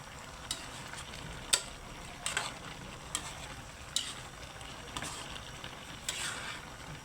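Chayote cooking in a pan is stirred with a utensil, giving a steady series of quiet scraping clinks roughly once a second over a soft sizzle, with no talking.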